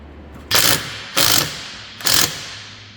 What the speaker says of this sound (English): Now I can get to these 2 screws that fasten the front bumper to the fender.